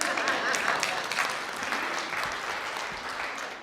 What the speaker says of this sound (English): You guys could clap for that.